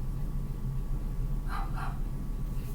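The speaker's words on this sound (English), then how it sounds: "That must have been a dog outside." A dog barks twice outside, distant and fairly faint, two quick yaps in a row over steady low room hum.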